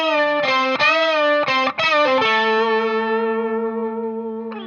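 Two electric guitars play the same lick in unison an octave apart, a few quick distorted picked notes followed by a long sustained bend held with reverb, loud and close with no talking.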